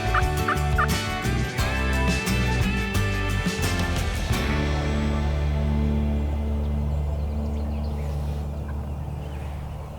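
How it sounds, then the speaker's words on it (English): A wild turkey gobbles in woodland, loud and clear in a quick rattling burst, then the sound trails off into quieter rumbling. "Thought I just heard a turkey gobble behind us, far off"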